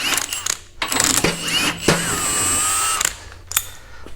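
Power tool whirring in short bursts while undoing a bumper bolt on a Hummer H3, with clanks and metallic rattles of bracket and grille guard work close by, and no talk.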